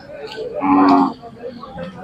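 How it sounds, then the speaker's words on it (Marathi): A Khillar cow gives one low, drawn-out moo at a Khillar cattle market in Sangola, Solapur, close by and lasting about half a second, with faint crowd noise around it. "ही एक गाय आलेले आता"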